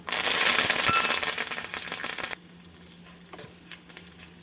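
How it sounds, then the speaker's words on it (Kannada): Mustard seeds sputtering and crackling in hot oil with dried red chillies, a dense loud sizzle that cuts off sharply after about two seconds, leaving faint pops and clatter. "ಒಂದು ಸ್ಪೂನ್ ಸಾಸಿವೆ ಹಾಕ್ತಾಯಿದ್ದೀನಿ ಸಾಸಿವೆ ಸ್ವಲ್ಪ ಸಿಡೀಲಿ"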